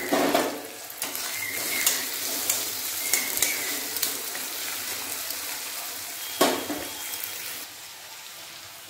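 Chopped tomato goes into a pan of frying onion, ginger and garlic, setting off a loud, steady sizzle with bright crackles and spatters and a few sharp pops, heard close up with no talk.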